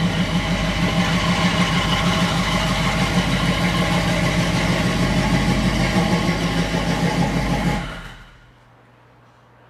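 A car engine with a stainless steel exhaust idles steadily and loudly with an even low throb, then shuts off near the end and leaves quiet.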